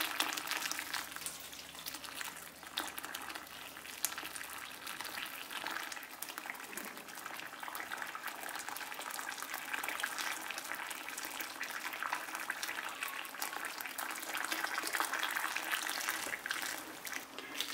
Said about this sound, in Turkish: büyükçe bir tencereye alıyoruz ve üzerinden kaynar su ilave ederek haşlamaya